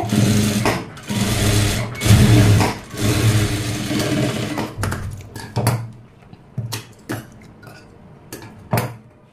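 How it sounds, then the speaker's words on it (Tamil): A sewing machine stitches a seam on a puff-sleeve blouse, running in steady, loud whirring bursts at first, then breaking into shorter runs with clicks and pauses. "இது மேல ஒரு படிமான தையல் வந்து போட்டுக்கோங்க"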